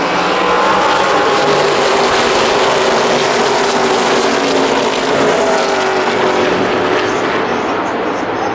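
Stock cars at the Coca-Cola 600 roar past in a loud continuous engine drone that sweeps in pitch as the field charges toward turn three, heard from close trackside without pauses.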